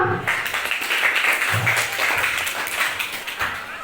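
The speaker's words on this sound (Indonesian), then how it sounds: "beri tepuk tangan untuk kita semua" Applause from a classroom of students, a steady wash of clapping close by that runs for a few seconds, with a brief voice at the very start.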